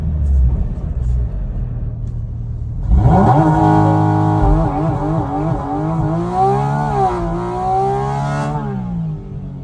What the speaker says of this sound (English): Driving that GT4 RS last week, I did a launch, check this out.